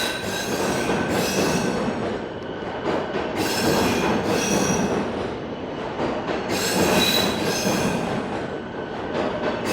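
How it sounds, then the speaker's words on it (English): A train rolls past on Toronto's Spadina Avenue with its wheels squealing in repeated bursts over a steady loud rumble. No one speaks. "Oh, is this another train rolling in?"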